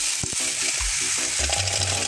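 Sautéed vegetables being stirred in a pan, a short burst of bright sizzle with a few soft knocks and scrapes, heard up close and alone.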